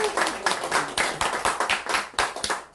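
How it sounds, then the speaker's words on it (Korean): Rhythmic group clapping from an audience at the opening ceremony of a speech and small-business management course, sharp regular claps in unison close up, slowing and stopping after a few seconds. "큰 박수 부탁드립니다."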